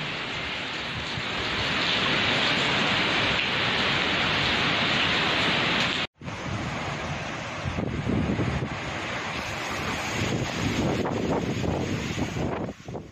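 Strong winds and heavy rain of Storm Jasper in Queensland, Australia, a loud, steady rushing roar with gusty surges and a brief cut midway, no voices.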